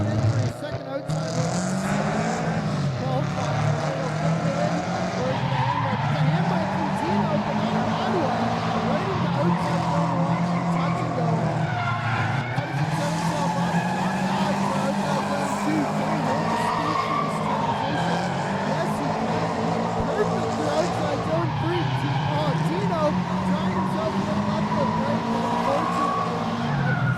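A race car's tires skid and squeal through a qualifying run at a grassroots motorsport round, with the engine roaring loudly and continuously throughout while a commentator talks over it.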